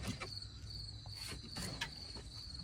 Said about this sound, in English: there's a bee